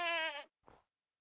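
A video game goat lets out a bleat: one loud, wavering, strongly voiced cry, then a short, softer second call after a brief pause, with silence after.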